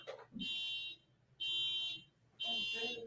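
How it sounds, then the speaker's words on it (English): An alarm in a room beeps in three long, loud electronic bursts, each about half a second with short gaps between, while people talk faintly in between. "Someone's alarm is going off."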